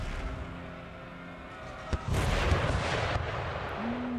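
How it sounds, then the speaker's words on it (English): Artillery fire in the battle game Empire: Total War, a sharp cannon crack followed by a dense, rumbling burst of gunfire and explosions that lasts to the end. "Let's see if we can get some artillery shots in first"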